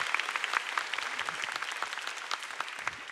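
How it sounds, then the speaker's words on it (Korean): A room full of people at a church worship service claps steadily for a few seconds, a dense, even applause without cheering. "번 더 박수로 격려하겠습니다"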